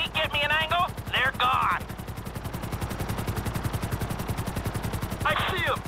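Helicopters in the GTA V video game produce a rapid, steady rotor chop that runs throughout, with possible bursts of gunfire. Voices speak at the start and end over the thumping.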